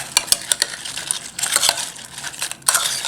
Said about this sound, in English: Then kind of just toss them around in it.